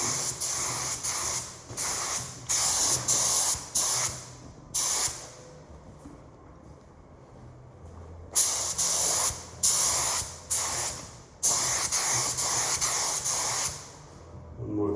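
Repeated bursts of a spray gun applying House of Kolor Brandywine paint to 1967 Firebird dash parts such as the gas rim and glove box, steady hissing passes broken by short pauses, close and loud with no talk.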